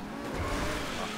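A car braking hard with tire squeal in the racing game GTA V Online during a wallride race on a bridge, a brief loud screech over engine rumble.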